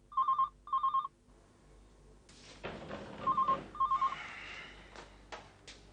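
A telephone rings in two short double trills, pauses for a rustling noise, then rings twice more, fairly clear and close.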